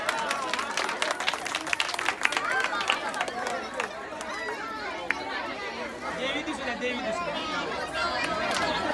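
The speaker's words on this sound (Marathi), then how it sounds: "जोरदार टाळ्या वाजवायच्या आहेत" A crowd at a children's fancy dress competition claps and chatters, with dense clapping in the first few seconds thinning into a lively murmur of voices and movement.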